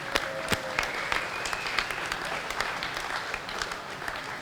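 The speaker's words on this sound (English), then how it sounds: "a round of applause to everyone in this room for all the support" A room full of attendees at a Lagunitas Brewing and 5 Rabbit Cerveceria quarterly meeting breaks into sustained applause, a dense wash of many hands clapping with a few sharper claps standing out, no speech over it.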